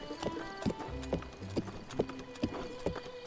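A horse's hooves clip-clop at a steady walking pace in Zelda: Breath of the Wild, with evenly spaced clear thuds and a soft whinny, over quiet game ambience.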